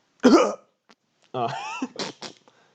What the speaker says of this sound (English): Just a very dry cough